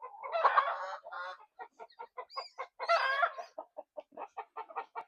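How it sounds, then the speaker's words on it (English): Chickens cluck steadily on a farm, pecking at dog food, with a run of short, close, rhythmic clucks and a couple of louder drawn-out calls. "Chicken in the dog food."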